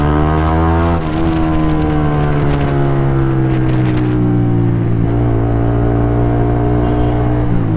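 A single-cylinder motorcycle engine revs loud and close, its throaty drone rising and falling through repeated throttle pulls without a break.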